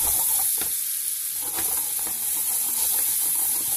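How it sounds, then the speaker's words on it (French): A spoonful of sugar caramelizes in a hot pan, giving a steady, close frying sizzle and hiss with faint stirring scrapes throughout, and no voices. "je vais mettre un tout petit peu de sucre. Une cuillère, pas plus. Et là, on va laisser caraméliser gentiment."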